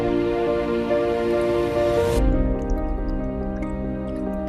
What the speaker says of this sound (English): Still cleaning my cup.